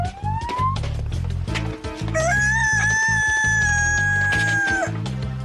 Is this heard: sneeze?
no